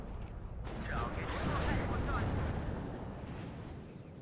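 Artillery fire in the Cold War strategy game WARNO: a loud, rumbling barrage of heavy booms that swells and lingers for several seconds, with a voice speaking over it.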